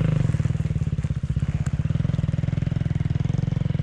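A KTM motorcycle engine runs close by with a fast, even, throbbing exhaust beat, loud and steady with a slight rough crackle, continuing without pause.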